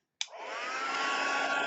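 A hair dryer, used to dry paint, switches on abruptly and runs with a steady, loud, close whooshing roar, unbroken to the end.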